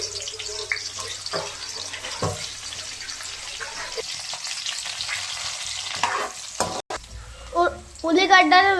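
Tempering spices and onions fry in a spoonful of oil in a pan with a steady sizzle, punctuated by stirring clatter, a brief sharp knock, and a voice speaking near the end.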